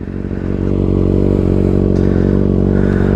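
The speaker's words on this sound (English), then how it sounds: "the exhaust sounds louder for some reason" A Kawasaki ZX6R sport motorcycle exhaust idling close by with a deep, loud, throbbing rumble that holds steady throughout.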